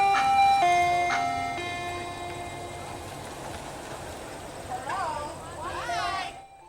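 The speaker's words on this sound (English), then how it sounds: "out here you get the ice cream truck, though, so that's a bonus" An ice cream truck's chiming tune plays outdoors near an airfield, a few loud melodic notes at first that fade and carry on more faintly under background rumble, with voices rising briefly near the end.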